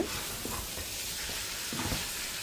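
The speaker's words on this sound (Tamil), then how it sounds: "ஓவன்னிட்டு இந்த மாதிரி நல்லா புரட்டி விடுங்க" Chicken curry with spices being turned over in a pan for Batticaloa-style kozhi kuzhambu, a soft steady sizzle and hiss with faint scraping stirs, quiet and close.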